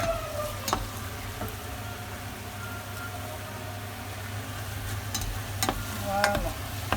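Tomatoes and onions being stirred in a frying pan, with a steady low sizzle and intermittent scraping clicks of the spoon against the pan, close and moderately loud, no talking.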